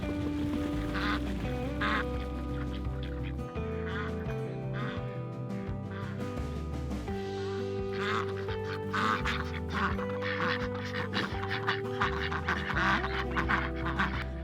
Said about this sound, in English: Here comes the duck parade is what I always say